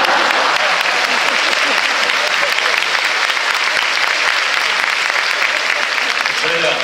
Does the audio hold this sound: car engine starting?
no